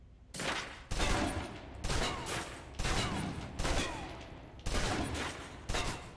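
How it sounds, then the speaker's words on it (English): Submachine gun in a video game emptying a full magazine, heard as six or seven dense automatic bursts in a steady rhythm with short gaps between them, fairly loud and with no voices. "Now, let's move on to the submachine gun. Now let's empty the clip."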